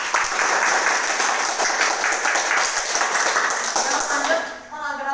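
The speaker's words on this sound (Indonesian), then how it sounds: "kasih tepuk tangan dulu buat Diana." A classroom of students gives a round of clapping for a classmate who answered correctly, dense brisk applause at close range that fades out near the end.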